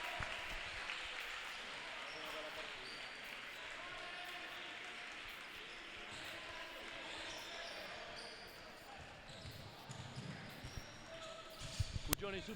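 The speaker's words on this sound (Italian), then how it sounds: "Applausi del pubblico di casa per Lizzeri" A home crowd applauds in a gymnasium during a late stage of a basketball game, the clapping faint and distant beneath an announcer's commentary, with squeaks and ball bounces near the end.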